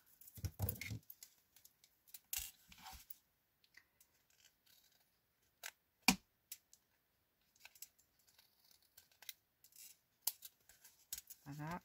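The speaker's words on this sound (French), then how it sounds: "je vais prendre mes ciseaux." Scissors cut paper for a handmade craft booklet with envelopes, close sharp snips arriving in short scattered bursts with long quiet gaps and small handling noises between them.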